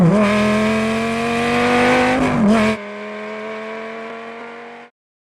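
A designed cinematic car engine sound without turbo, steady loud droning with a brief pitch dip and rise, then dropping to a lower sustained tone before cutting off.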